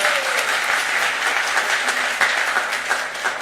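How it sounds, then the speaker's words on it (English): Loud, sustained applause from a large crowd at a green tech forum in India fills the space, dense clapping continuing steadily throughout. "Louder, thunderous applause."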